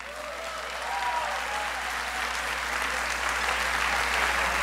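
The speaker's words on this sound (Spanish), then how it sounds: "Un aplauso para ella, por favor." Audience applause at a student leadership showcase, steady crowd clapping that builds slightly and holds, heard at moderate level over a low hum.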